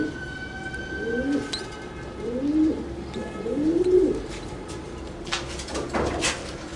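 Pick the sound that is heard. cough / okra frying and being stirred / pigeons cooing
pigeons cooing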